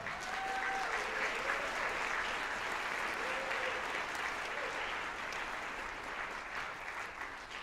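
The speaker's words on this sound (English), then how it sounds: "All you students, will give a round of applause for the parents." An audience at a school honor band festival claps steadily and loudly for several seconds, a dense sustained wash of applause that tapers slightly toward the end.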